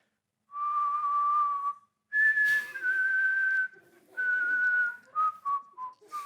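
A person whistling a slow tune, long held notes followed by shorter broken ones, clear and close with no other sounds.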